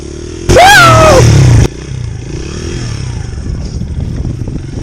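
A loud dirt bike engine on ice revs sharply for about a second, pitch rising and falling, then drops back to a rough, steady idle that runs on.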